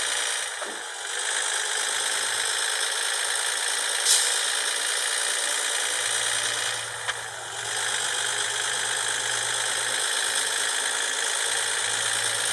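A Volvo F-16 truck engine droning steadily while driving in the video game Cargo Transport Simulator, a constant mid-pitched hum with a low rumble that comes and goes, one or two brief clicks, no talking.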